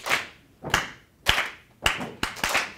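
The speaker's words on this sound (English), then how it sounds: "I'll just clap something for you." A leader at a jazz rhythm workshop claps out a short call pattern alone: a few crisp, loud hand claps spaced unevenly, ending with a quicker pair close together.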